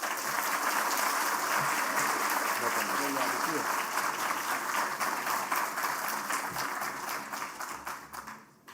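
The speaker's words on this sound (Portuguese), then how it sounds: "Leandro Roque, por favor, uma salva de palmas." An audience claps for economics speaker Leandro Roque at a lecture on the Brazilian economy, dense steady applause that holds strong and then thins and fades near the end.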